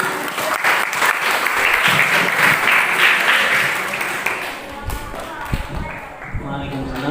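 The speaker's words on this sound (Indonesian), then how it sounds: "Silakan tepuk tangan dulu." An audience at an Islamic talk session applauds in a sustained burst of clapping that builds and then tapers off, with scattered claps and a voice at the end.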